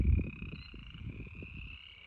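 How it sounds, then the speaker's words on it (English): Frogs croak in a dense, rapid chorus near a wet, muddy field being leveled with water, the calls pulsing steadily alongside a continuous high insect-like trill, with no talking. "You can hear all them frogs over there."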